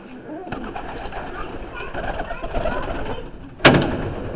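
Chinese owl pigeons coo inside a loft, low murmuring coos running steadily in the background, with a sharp knock or bang near the end.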